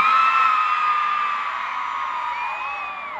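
A concert crowd of women at Foro Sol screaming in response, a loud sustained massed shriek with whoops that slowly eases over a few seconds.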